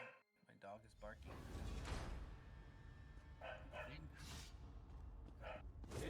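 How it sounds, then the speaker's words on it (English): A dog barks several times in short, loud bursts close by indoors, mixed with a person's speech and some household noise. "Oh, my dog is barking."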